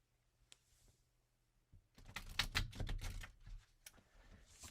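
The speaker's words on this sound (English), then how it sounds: "I'll be shuffling over here." A deck of cards is shuffled up close, first a few soft isolated clicks, then a dense rapid flurry of riffling snaps that tapers off.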